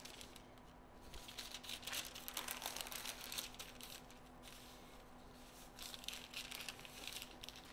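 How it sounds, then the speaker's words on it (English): Parchment paper crinkles and rustles softly as it is folded up around a rustic round pastry, a quiet, close, uneven crackle that rises and falls throughout. "So the parchment just works as a little extra help to fold that pastry up."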